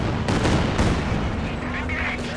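Katyusha rocket barrage in Company of Heroes 2, a dense run of booming launches and impacts in quick succession, loud and continuous across the whole stretch.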